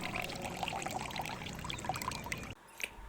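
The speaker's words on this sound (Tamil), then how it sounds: "இப்போ அந்த தண்ணியை வந்து நம்ம ஃபில்ட்ரு பண்ணி எடுத்துடலாம்." Curry leaf water is poured and strained through a filter for a homemade hair serum, a steady close trickle and splash of liquid running for a few seconds before stopping, followed by a brief drip.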